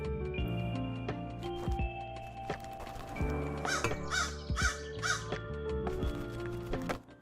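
Crows in the SkateBIRD video game give a short run of harsh caws, several calls clustered close together over looping game music, with no talk.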